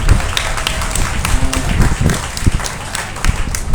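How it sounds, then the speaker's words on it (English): Scattered applause from spectators at a 2023 beef cattle show ring, uneven claps with some louder close hand claps, mixed with faint crowd murmur. "Give the young lady a nice round of applause for the single entry"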